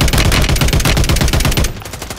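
Loud, continuous rapid gunfire from a squad shooter video game, with dense repeated shots hammering close and steady for about two seconds before easing slightly.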